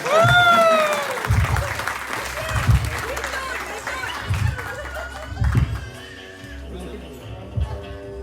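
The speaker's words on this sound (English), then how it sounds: "A round of applause everyone for Vishen." Party guests at a 40th birthday celebration clap and cheer, with excited voices, whoops and laughter mixed over the applause; people talk and call out throughout, and the clapping comes in uneven bursts.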